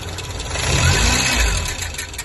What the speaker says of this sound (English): sounds like a scrape, scrape, scrape.